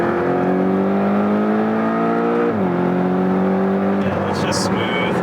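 A Porsche GT4 RS accelerates hard from inside the cabin, engine tone climbing steadily through a gear, a brief dip at the shift, then rising again, loud and close, with people talking over it.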